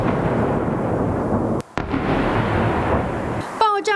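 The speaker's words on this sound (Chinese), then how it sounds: "爆炸声接二连三，不只是无人机空袭，还有飞弹来袭。" Explosions from a night-time Russian missile and drone attack on Kyiv make a dense, continuous roaring rumble with brief breaks, loud and sustained, with a voice speaking amid the noise.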